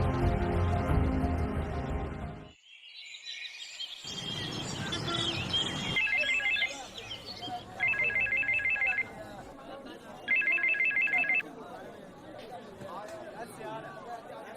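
A telephone rings in repeated electronic bursts, three short trilling phrases separated by pauses, over background chatter and music.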